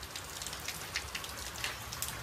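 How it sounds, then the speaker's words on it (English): Rain falls steadily around a vehicle on a Sydney trip, a dense hiss of drops with scattered louder splats pattering on a nearby surface. "hopefully this rain settles down"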